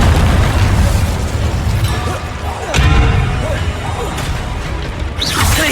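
Incendio fire spell cast in Hogwarts Legacy on PS4 Pro, a loud burst of fiery whooshing and booming impacts, dense and continuous with a sharp surge partway through, up close within game combat.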